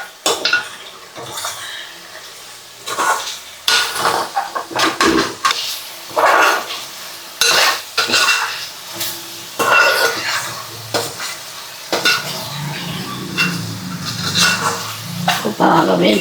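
Chicken and curry leaves with salt stirred in a hot pan, a spoon scraping and clinking against the metal at close range amid a soft sizzle, while a person talks over much of it.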